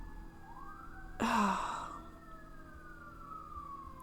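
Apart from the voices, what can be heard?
emergency vehicle sirens passing outside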